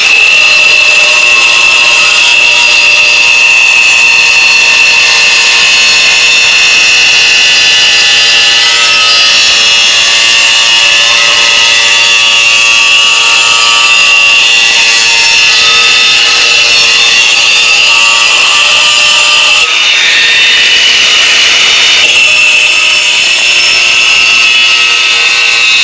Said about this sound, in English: So what I'm going to do, I'm going to get grinder.